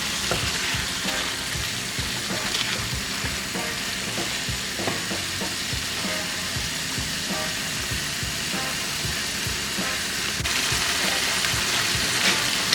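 Spinach is sautéed in a pan until its liquid cooks off, giving a continuous close sizzle with repeated scraping and stirring knocks from a utensil, no voices over it.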